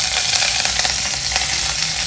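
Curry leaves drop into hot oil for a coconut milk rasam and give a steady, close, crackling sizzle that holds for about two seconds with no voices.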